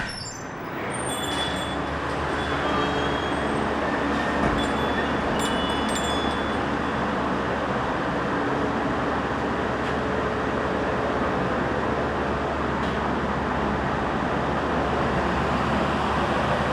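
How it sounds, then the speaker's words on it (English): A big fan runs inside a fire equipment museum, making a loud, continuous broadband roar that holds steady throughout, with no talk. "Excuse the noise, they got a big fan going on here"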